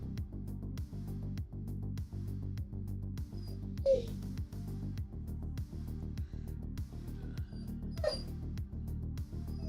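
A puppy whimpers and gives a couple of short yips over a loud, regular rhythmic thumping that runs throughout, with no talking.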